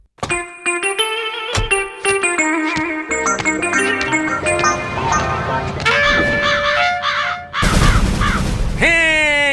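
Harsh crow caws repeat over bright, busy cartoon music and sound effects, loud and up front, with a voice speaking in places.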